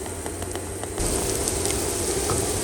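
Steady, loud sizzling of salty cottage cheese and zucchini pancakes frying in a hot pan, a dense crackle that swells slightly partway through, with no talking.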